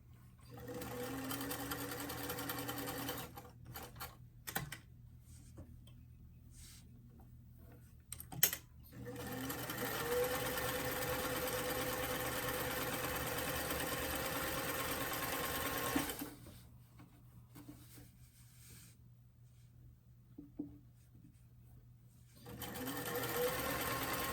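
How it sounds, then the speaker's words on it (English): Sewing machine stitching a lined doll dress, running in steady bursts with short pauses between seams and a few quick back stitches, close and fairly quiet. "And go ahead and sew that together."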